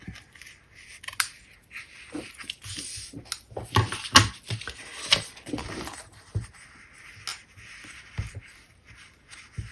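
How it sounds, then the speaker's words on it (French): Scissors snip and trim excess card paper in a series of short, quiet, irregular cuts and rustles, close up with no talking. "je coupe ce qui dépasse"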